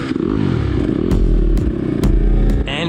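Enduro dirt bikes, a 4-stroke and a 2-stroke, one Japanese and one Austrian, rev up loudly and close at the start of a cross-training enduro race, their engines droning continuously with clattering bursts.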